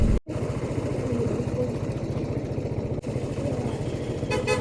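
A small motorcycle creeps through a traffic jam with its engine putting steadily up close. A short horn toot sounds near the end.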